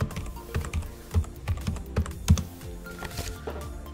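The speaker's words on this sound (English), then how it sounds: "You can type in your name here. Let's type in yourname.com." Close, clear keystrokes on a computer keyboard, a quick run of irregular clicks and taps with no voices over them.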